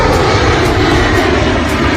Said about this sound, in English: I'll see the airplane behind me.